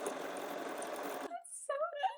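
A Bernina sewing machine stitches a name, running in a fast, even buzz at close range for over a second before stopping, followed by brief voices.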